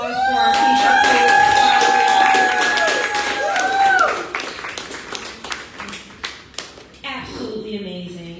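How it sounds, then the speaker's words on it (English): Scattered clapping from a small group at a poetry event, loose and uneven, following a stretch of cheering and excited voices, then trailing off into a few isolated claps. "Can we get another round of applause for our t-shirt coach?"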